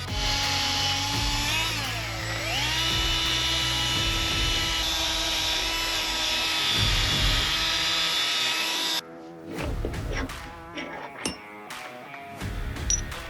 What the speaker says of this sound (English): with a brass wire brush, just take all the shine and the milling marks off the part